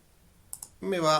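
A mouse click on a web page checkbox in an HTML and JavaScript form, heard as two quick soft clicks followed at once by a person speaking.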